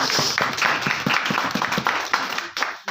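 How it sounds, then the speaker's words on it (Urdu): Loud applause and clapping from an audience at a religious gathering, a dense wash of many hands filling the whole stretch with a few stronger bursts. "زوردار تالیاں جی ان کے لیے"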